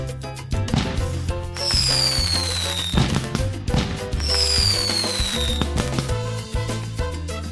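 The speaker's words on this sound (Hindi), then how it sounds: "जिसके बाद आसमान में ये लोग पटाखे फोड़ने लगते हैं" Fireworks bursting in the sky, a rapid series of sharp cracks and pops with two rising whistling streaks, loud and close, with no talk over them.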